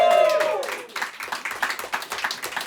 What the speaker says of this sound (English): Give yourselves a little round of applause.